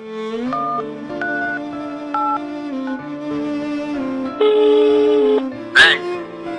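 Electronic telephone tones step through different pitches in short beeps, then hold a longer steady tone before a brief sharp burst.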